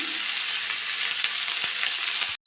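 Spices for a tilapia curry with kohlrabi and potato fry in hot oil, a dense steady sizzle heard close up, broken by a few faint stirring knocks and a sudden cut just before the end.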